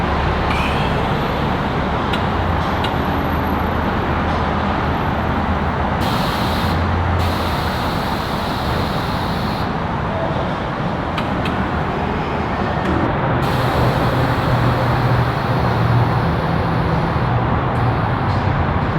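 A steady, loud hiss of compressed air venting continuously as the air suspension on a Tesla Model 3 lets air out and tilts the car, with a slight shift in tone partway through and no talk.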